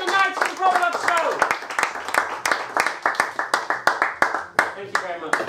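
An audience claps hands at the close of a live comedy show, a dense burst of applause thinning into scattered sharp individual claps, with a voice speaking loudly over the clapping.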